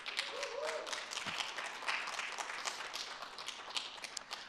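Audience at a city's State of the City address applauds a police officer receiving a life-saving award: a steady patter of many hands clapping in a hall, moderately distant and even throughout, with a brief low thump partway.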